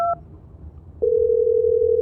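A telephone in a horror video game: a brief two-tone dialing beep, a short gap, then a steady loud dial tone that holds to the end.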